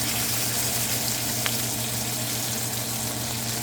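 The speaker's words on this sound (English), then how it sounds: "You can start using your tongs to sear the side of this thing." A filet mignon sears on its side in a hot cast iron skillet, giving off a constant, even sizzle with a faint crackle, heard alone and fairly close.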